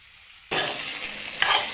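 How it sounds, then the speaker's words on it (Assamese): Fish hitting hot oil in a pan, a sudden loud sizzle that bursts in after a quiet moment and holds steady, with a second flare of crackling near the end. "এয়া মই মাছ ভাজি আছোঁ"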